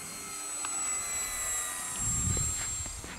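A small 750mm radio-controlled P-51D model airplane engine whines steadily overhead, not at full speed, with wind buffeting the microphone throughout.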